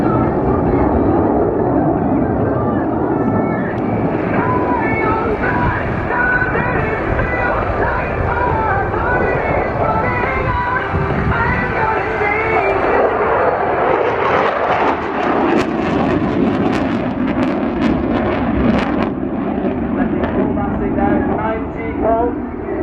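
A jet aircraft makes a low, fast pass at an air show, a loud sustained roar that swells and grows harsher toward the end, with crowd murmur and a commentator talking throughout.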